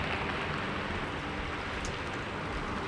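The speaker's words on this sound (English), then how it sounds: "In the sudden darkness, the rain seemed louder," Steady rain falls as a dense, even hiss with no pauses or distinct drops, moderately loud and close, with no voices.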